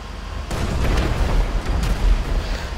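A deep booming explosion blows up people in the video game GTA 5, a sudden heavy blast followed by rumbling low-end roar that lingers for a couple of seconds.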